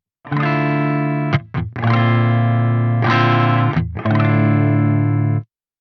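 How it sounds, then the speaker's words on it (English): An electric guitar plays through a Soldano SLO-100 X amplifier with its chorus bypassed, giving loud distorted sustained chords in several long strums with brief gaps between them. The sound ends in silence and no one speaks. "here's how my guitar sounds with the chorus bypassed"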